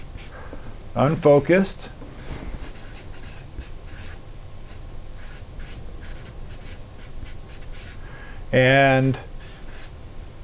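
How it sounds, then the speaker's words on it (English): A business coach writes by hand during a talk, making soft scratchy strokes across several seconds between two short spoken phrases. "I'm going to write that here."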